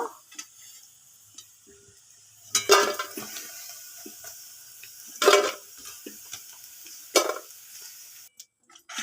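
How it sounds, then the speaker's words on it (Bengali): Paneer frying in oil gives a quiet sizzle broken by three or four louder bursts of crackle and scraping. Short clicks fall between them. "পনিরটা এখনো ভাজা চলছে একটু লাল লাল হলে এবারে তুলে নেব"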